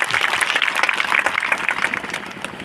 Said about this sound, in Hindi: जोरदार ताली बजा करके एक बार नेताओं का स्वागत करिए।